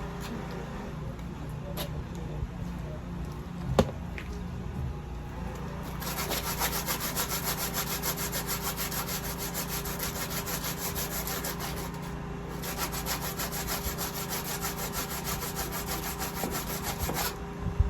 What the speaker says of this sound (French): Jamais j'arrive à enlever ça au papier de verre.